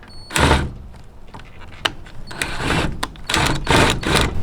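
A power driver fitted with an Allen head mounts the feet of a Front Runner Slimline 2 roof rack on a Jeep Gladiator in a garage. It gives short whirring bursts and ratcheting clicks in uneven spurts, with sharp taps in between.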